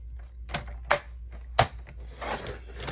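Paper trimmer or craft blade cutting along a sheet of cardstock for a handmade faux envelope pocket card: a few sharp clicks and snips over a low steady hum, close and fairly quiet.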